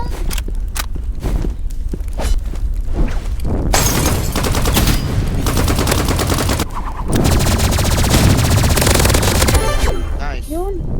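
Shotgun fire in the Roblox Rivals video game, a string of loud blasts with rapid bursts and clattering action through the middle, under excited talking from players nearby.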